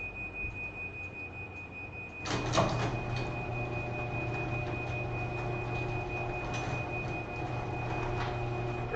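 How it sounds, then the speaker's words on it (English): A door slides shut in a golf cart garage with a single firm thud and rattle, followed by a steady mechanical hum and a thin high tone continuing afterward. "I'm just closing the door."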